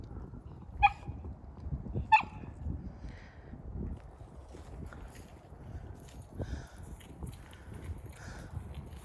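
A dog in dark woods at night gives two sharp, distinct barks early on, then faint yips and whimpers under wind and rustling.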